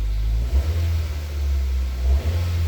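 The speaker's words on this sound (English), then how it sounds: "Just give it a little rev." A Nissan Versa engine with a repaired muffler and heat shield idling low, then revving up and settling back, a couple of throttle blips close by with a deep steady rumble.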